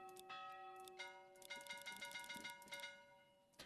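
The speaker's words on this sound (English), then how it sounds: "That sounds like a good bell for this church." Church bell in the Manor Lords medieval strategy game ringing with sustained metallic tones, several struck peals layered over each other, moderately loud against a faint game ambience.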